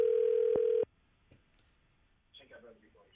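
A steady electronic telephone ringing tone on a live call sounds loudly for a moment and then cuts off, followed by near quiet and then a voice speaking.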